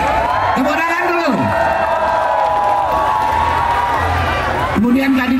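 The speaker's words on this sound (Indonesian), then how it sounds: "Wali Kota Binjai Pak Amer, tepuk tangan dulu." A crowd at a Langkat regency anniversary ceremony applauds and cheers continuously, a dense wash of clapping and whoops running under occasional shouted voices.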